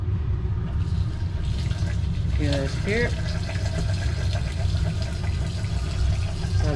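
Water rushes steadily through a Kjeldahl digestion unit, a continuous flushing, pump-like stream that fills the background while a person talks over it.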